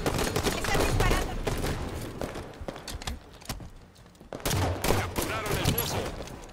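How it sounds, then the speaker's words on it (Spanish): Rapid gunfire in the Halo 5 multiplayer game comes in loud bursts, with a quieter lull in the middle before the shooting picks up again; voices are heard now and then. "Están disparando."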